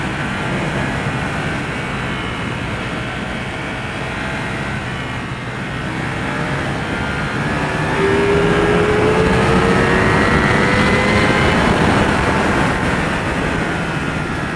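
A sport motorcycle drones loudly under heavy wind rush, its engine pitch climbing midway as it accelerates and the level rises for the rest.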